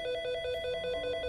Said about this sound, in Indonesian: Telepon kemudian masuk.